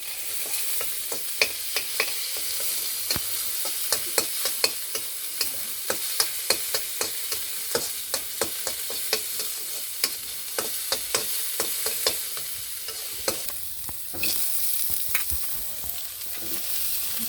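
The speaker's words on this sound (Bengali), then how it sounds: "একই তেলের মধ্যে বেগুন ভাজলাম পটল ভাজলাম মাছ ভাজলাম রসুন আর পেঁয়াজ দিয়ে দিলাম" Garlic and onion fry in oil already used for frying eggplant, pointed gourd and fish, making a steady crackling sizzle dotted with many sharp pops and spatters throughout; nobody speaks.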